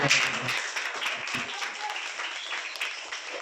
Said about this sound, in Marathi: कृष्णा सरांसाठी टाळ्या.